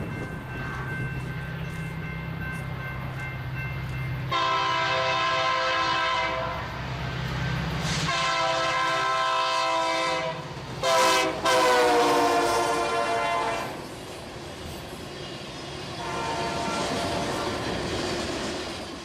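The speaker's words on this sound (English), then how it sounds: "Coming into frame is train RHI 476-1 29I with the Santa Fe Bluebonnet SD40 leading." A BNSF freight train led by a Santa Fe Bluebonnet SD40 locomotive rolls past on the Aurora subdivision in northern Illinois, its loud horn sounding in repeated blasts over the steady rumble and clatter of the cars, close and continuous.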